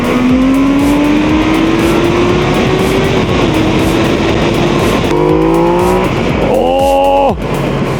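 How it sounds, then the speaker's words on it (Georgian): A Honda CB650R four-cylinder motorcycle engine revs hard and loud up close, its pitch climbing steadily, then blipping in sharp bursts near the end before dropping back to idle. "ხმა რა შეიძლება იყოს მოტოზე უკეთეს"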